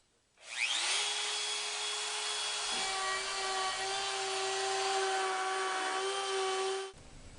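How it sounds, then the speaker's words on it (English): A handheld router spins up and cuts along a line in wood clamped to a board, a loud sustained whine at steady pitch that dips as the bit bites, then shuts off and winds down. "if I put the router down on here, I can verify that that will cut exactly to the line."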